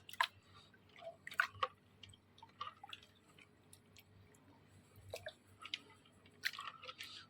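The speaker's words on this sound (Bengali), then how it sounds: "এই কলাটাকে সুন্দর করে এর মধ্যে কিন্তু আমরা চটকে দেবো।" Soft wet squishing and dripping as a banana is mashed by hand into water for a liquid plant feed, close and quiet, in irregular squelchy bursts with small drips between.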